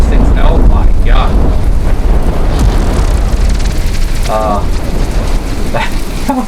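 A missile blast in the naval combat game From the Depths, a loud rumbling, crackling roar that fills the whole stretch with dense debris-like noise and a few faint higher whistles.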